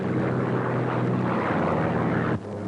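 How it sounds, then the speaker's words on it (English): WWII bomber racing down the runway at full power for takeoff: a loud, continuous roar of piston engines and propellers, dense and steady, dropping abruptly in level just before the end. "The big ship gathers speed rapidly, racing down the runway for a full power takeoff."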